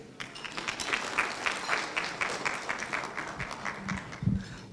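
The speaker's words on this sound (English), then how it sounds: "Another clap for Your Excellency" A luncheon audience applauds the ambassador at an annual stakeholders' event, steady clapping from a crowd filling the room at moderate level, with a few heavier claps near the end.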